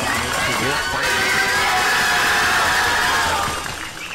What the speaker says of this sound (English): A lot of noise coming from the crowd